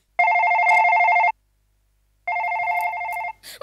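An old-style telephone bell rings loud and close in two long bursts separated by a short pause, with no talk over it, in a Marathi comedy sketch.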